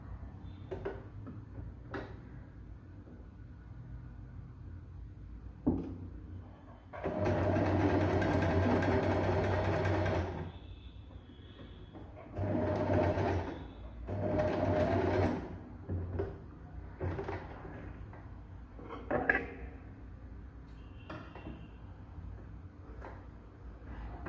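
A sewing machine stitches a blouse crosswise. It runs in three steady whirring bursts of a few seconds each, with quiet handling clicks and fabric shuffling between the runs.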